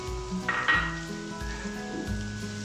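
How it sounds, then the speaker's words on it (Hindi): Carrot, cucumber, cabbage and chilli stir-fry in a pan with a gentle, quiet sizzle, broken by a few soft thuds and scrapes as the vegetables are tossed. "इन सब चीज़ों को अच्छी तरह से मिक्स करके ज़रा सा सॉफ्ट कर लेंगे।"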